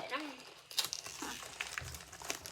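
A crinkly plastic pretzel snack bag is torn and opened close up, brief crackling and rustling bursts under a person's speech.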